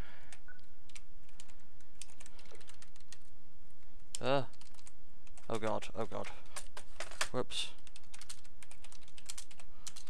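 Clacking keystrokes on a four-to-five-year-old computer keyboard, scattered taps close up, with someone talking briefly over the typing in the middle.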